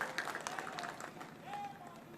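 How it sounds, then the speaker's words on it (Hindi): Faint, brief applause from an audience at a political speech, soft scattered clapping with some crowd murmur in the background. "उसके लिए भी जोरदार तालियां बजाइए"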